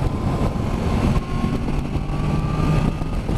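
Yamaha MT-10 motorcycle pulling hard in fourth gear on a windy day, a loud continuous engine drone with a slowly climbing tone, buried in heavy wind roar.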